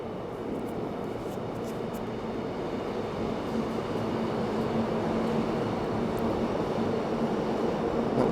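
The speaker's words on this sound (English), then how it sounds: "monster of a subway system" A subway train rumbles steadily through a Seoul metro station, a loud continuous roar with a faint steady whine that swells slightly toward the end, heard alone without voices.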